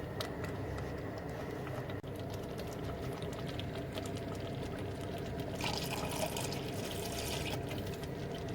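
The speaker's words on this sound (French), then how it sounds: "vous pouvez toujours y ajouter de l'eau" Water poured into a thick chili con carne sauce, a steady low liquid pouring and bubbling texture that lasts several seconds, fairly quiet, with no talking.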